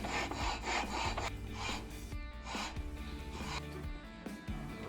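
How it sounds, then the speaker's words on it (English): Flywheel being lapped in by hand with valve grinding compound on a 212 Ghost small engine, a gritty rhythmic grinding rub in quick back-and-forth strokes, close and fairly quiet. "So use a little valve grinding compound so I can lap this thing in."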